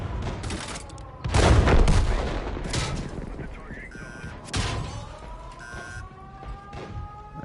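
Artillery fire in the World of Tanks video game: two heavy booming blasts with crackling gunfire, followed by a long rumbling decay and thin whining tones. A voice speaks over the action.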